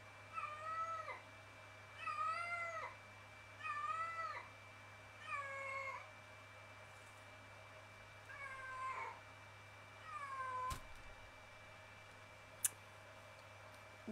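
A cat meows repeatedly, six drawn-out cries spaced a few seconds apart, fairly close, over a low steady hum with a sharp click near the end.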